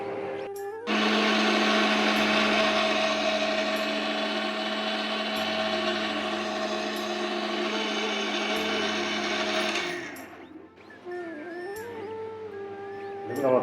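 A kitchen blender grinding spice paste for a potato chicken curry, a steady loud whine running about nine seconds, then stopping and restarting in shorter uneven pulses.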